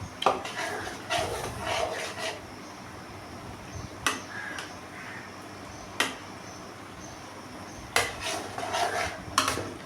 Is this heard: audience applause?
no